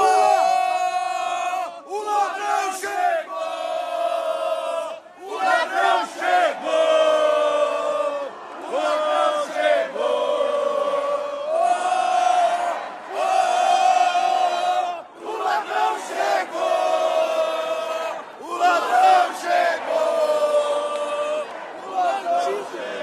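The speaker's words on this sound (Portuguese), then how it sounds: "ele foi vaiado e foi chamado de ladrão, e todo o povo brasileiro viu" Large crowd booing and chanting "Lula ladrão" at a public event, a loud massed roar of voices rising in repeated rhythmic waves throughout.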